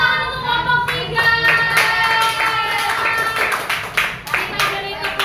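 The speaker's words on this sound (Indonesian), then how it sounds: "Apa tepuk tangan untuk kelompok 3" Children in an elementary school classroom clap their hands for group 3, a run of loud, uneven claps mixed with voices that carry on throughout.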